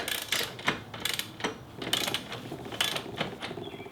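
A socket wrench working loose a tight motorcycle wheel bolt with a 24mm socket, giving quick, faint ratcheting clicks in an irregular rhythm.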